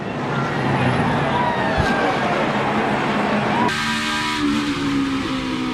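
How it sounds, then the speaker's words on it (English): NASCAR Cup Series stock cars roar past on a front stretch during a multi-car wreck, a dense, loud engine and crowd wash with a brief thump, then a shift to a steadier droning roar with tire and metal noise. "Big wreck on the front stretch."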